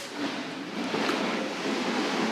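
Steady ocean waves wash in a continuous, soft broadband hiss, with gentle surges and no distinct breaks between them, heard alone.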